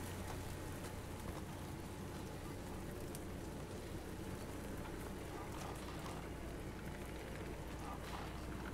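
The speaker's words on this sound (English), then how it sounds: "Rain." Steady rain hisses evenly and softly in the horror video game Reveil, a constant faint wash of drops with a voice talking over it.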